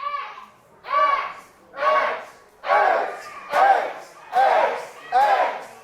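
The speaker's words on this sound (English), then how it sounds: "The crowd is letting both contenders know exactly who they're for" A wrestling crowd in the Diamond Dome chants and cheers during a steel cage main event, with rhythmic, evenly spaced shouted bursts repeating about once a second, loud and close.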